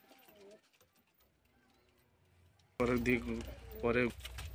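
A female giribaz high-flying pigeon coos in a loft, with two loud, close bursts of cooing in the second half that follow a quieter start with faint background sounds.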